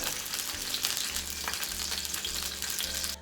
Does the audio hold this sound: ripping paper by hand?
no